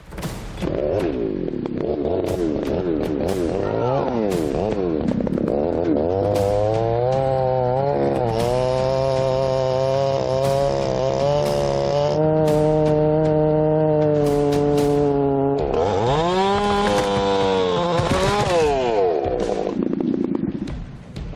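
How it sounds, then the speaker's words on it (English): A chainsaw bucks a 6-ton cedar log on a hillside, its engine revving loud and close, dipping and climbing in pitch as the bar bites into the wood, holding a long steady cutting tone, then racing again. "Bill and Nate returned to finish bucking the 6-ton cedar they had to abandon on the hill 48 hours ago."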